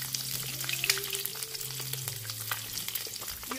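Eggs and onions fry in a pan, crackling close and steady with frequent light pops and small clinks from the utensil, no voices.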